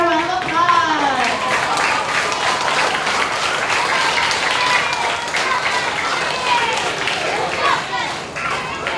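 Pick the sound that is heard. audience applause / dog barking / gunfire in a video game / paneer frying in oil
audience applause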